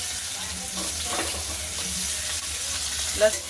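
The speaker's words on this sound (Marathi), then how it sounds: "मिरच्या थोड्या परतून घ्यायच्या तेलामध्ये. आता याच्यामध्ये लसण टाकायचं." Green chilies and then garlic sizzle and fry steadily in hot oil in a pan, with cumin already added, a continuous close crackle and hiss with a few faint stirring clinks.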